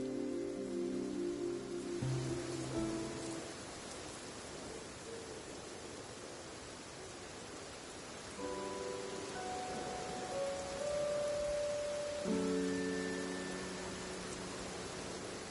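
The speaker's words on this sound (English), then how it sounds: "A rainy day is perfect for picking rainy orchids." Steady rain hisses as a soft ambient wash in the video game Infinity Nikki, running throughout beneath faint melodic game music tones, with no voices.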